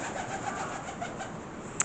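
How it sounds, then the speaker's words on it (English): A pigeon coos softly at a distance outdoors beside a historic castle hall, its low call set against steady background hum with a brief sharp chirp near the end. "Pigeon."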